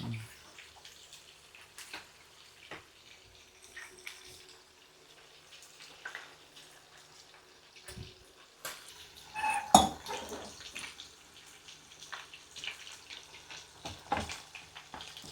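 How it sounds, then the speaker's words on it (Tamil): Water splashes into a pan amid clattering cookware, followed by a lid being set down with a clank; close and moderately loud, no talking. "இதில் தண்ணி ஊற்றி அப்படி மூடி வச்சிரும்."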